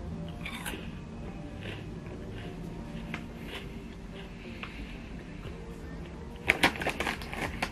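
Someone bites into puffed, fudge-coated Corn Choco Plus chocolate chips, with soft close-up crunching and chewing over a busy low background hum and a sharper burst of crunches near the end.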